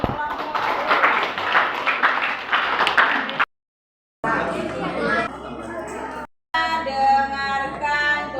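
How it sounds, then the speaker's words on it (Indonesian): Students in a school classroom clap for a group of classmates. Dense, close applause lasts about three seconds and then stops. After a brief silence, chatter and talking follow. "Kasih tepuk tangan untuk kelompok."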